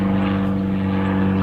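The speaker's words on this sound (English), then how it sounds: "Little planes and stuff flying over all this." Small propeller planes drone overhead above a riverside carp fishing spot, a loud, steady engine hum that holds constant throughout.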